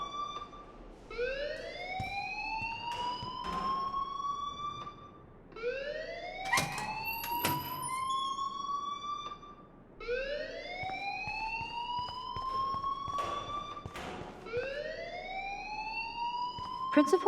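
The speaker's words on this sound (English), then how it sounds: "please turn off that alarm since that's your job." A school alarm in Life Is Strange wails in repeated rising sweeps, one about every four seconds, steady and moderately loud. Sharp clicks and thuds come in between, along with bits of other game sound.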